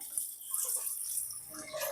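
Water runs and splashes into a pot in a home kitchen, where chopped carrots will be boiled for a carrot paniyaram, a steady close pour with no talk.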